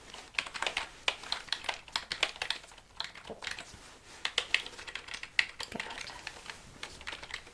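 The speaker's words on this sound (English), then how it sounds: "Let me type in some results" Steady typing on a computer keyboard during a medical cranial nerve exam setting, with quick, irregular clusters of close, soft key clicks and brief pauses; a voice briefly speaks.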